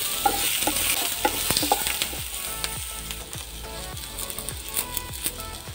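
Onions sautéing in a spoonful of oil in a pan give a steady broadband sizzle, with a run of sharp scraping and stirring clicks spread across the stretch, fairly close and with no talking.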